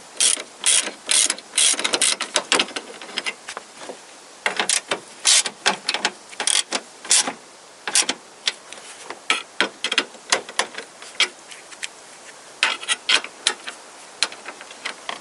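A ratchet clicks close and loud as a fastener is tightened during headlamp bulb work on a 2001–2007 Toyota Corolla. The bursts of rapid clicks come in uneven runs with short pauses between them.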